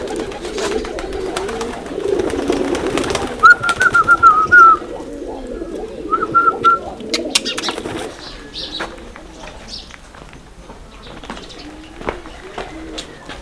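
A flock of pigeons cooing continuously in low murmuring tones in a Bastar village, with a few brief higher calls and rustling, close by and fairly loud.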